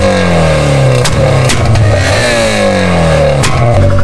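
A drift car engine revs hard, loud and close, its pitch rising and falling through several gear changes, with sharp bursts over a continuous roar.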